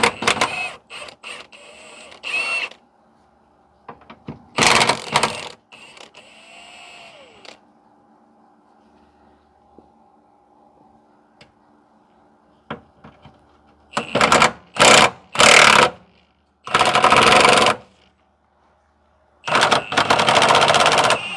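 Engine support nuts and bolts come off a 2010 Toyota Corolla 1.8 during clutch removal. Several loud, short rattling bursts from a power tool are separated by quiet pauses and faint clicks.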